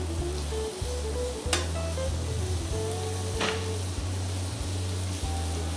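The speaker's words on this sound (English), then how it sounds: "You hear that start to sizzle." Venison marinated in fajita seasoning sizzles loudly on an oiled griddle, a dense continuous crackling hiss with a low steady hum beneath and a couple of sharp spits standing out.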